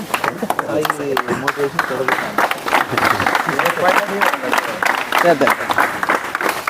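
A class applauding Indian Army soldiers at an honouring ceremony, with a steady patter of many hands clapping throughout under a voice speaking.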